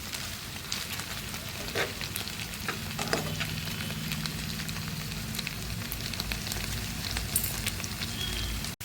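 Chicken wings shallow frying in a pan with garlic, giving a steady, close sizzle with light crackle and a few stirring scrapes throughout, no voices.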